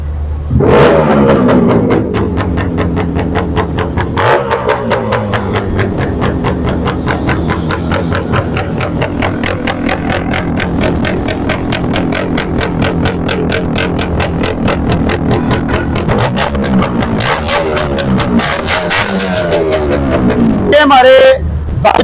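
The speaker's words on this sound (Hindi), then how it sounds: "अब इसको करते हैं स्टार्ट इसका थोड़ा सा साउंड भी चेक करते हैं" A modified Yamaha two-stroke motorcycle engine runs loud and close, crackling through repeated blips and revs with a buzzy, raspy tone and a sharp final flurry of throttle near the end.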